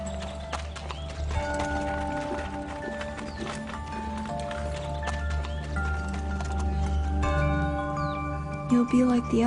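Hoofbeats clop steadily from a horse moving throughout, with an occasional whinny, set beneath a sustained musical score and low background rumble.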